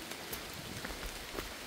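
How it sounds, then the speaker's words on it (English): Rain falls steadily on a wooded hiking trail near Harper's Ferry in West Virginia and Virginia, a dense, even hiss of drops with scattered louder pattering close by. "Despite the rain, rain's not been bad."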